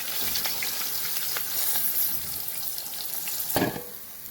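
Chicken pieces frying in hot oil, a steady close crackling sizzle with scattered pops and a brief stirring scrape near the end.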